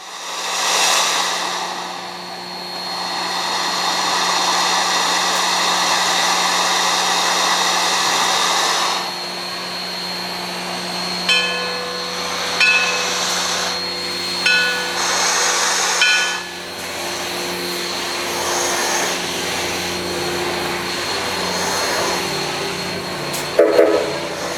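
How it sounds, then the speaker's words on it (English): A Polar Express excursion train hauled by GSMR 1702 lets off steam, a loud, steady hissing blast lasting several seconds, followed by quieter hissing with short bursts and a faint tonal whistle, with no talking. "the crew let off a little bit of steam to add a special effect"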